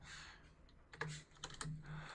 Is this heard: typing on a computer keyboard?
yes